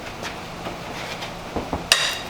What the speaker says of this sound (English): Both cam bolts cracked super nicely